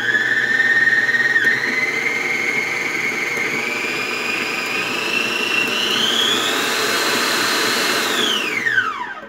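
An imported-motor Arno planetary stand mixer runs steadily with a whining, rising motor pitch that climbs over several seconds, then winds down sharply as it switches off near the end.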